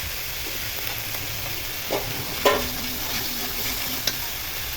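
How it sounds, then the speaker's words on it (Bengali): Ginger-garlic paste frying in oil with chicken for a Bengali chicken-and-potato curry, a steady close sizzle with a few scraping stirs of the spoon rising briefly above it. "এখন আদা রসুন বাটা দিয়ে দিব। দিয়ে কিছুক্ষণ ভেজে নিব।"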